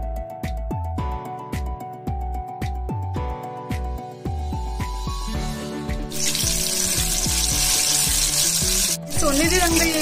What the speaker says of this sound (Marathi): आता आपण भजी तळून घेऊयात।